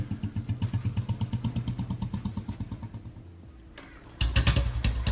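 A motorcycle engine idles with a loud, rapid, thumping exhaust pulse, falls quieter for a moment, then bursts back louder with a sharp rev.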